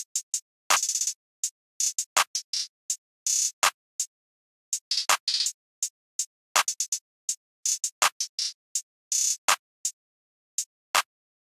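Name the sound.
programmed clap drum pattern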